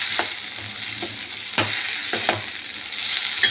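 Ginger and raw turmeric paste sizzle in hot oil in a pan with a continuous close hiss, while a spatula stirs with soft periodic scrapes and no one speaks.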